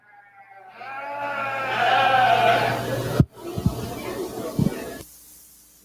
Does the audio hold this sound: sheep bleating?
yes